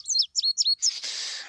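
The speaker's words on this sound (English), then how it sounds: "There's a field sparrow singing in the back." A field sparrow sings in the background, with three quick, clear whistled notes sliding downward, followed by a longer buzzy, hissing trill, moderately loud and with no voices.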